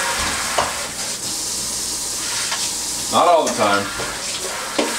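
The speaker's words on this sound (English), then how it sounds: "I'm making sure you actually hear the sound of me washing the product out" A Daiso pasta microwave cooker is washed under running water, with steady splashing and a brief louder burst of water midway, close up, and a short moment of speech.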